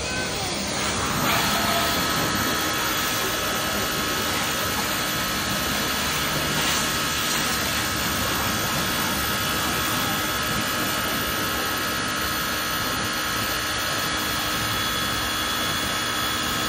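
A steady, loud roar of forced air from a car wash blower runs without a break, a broadband rushing hiss, with faint voices now and then.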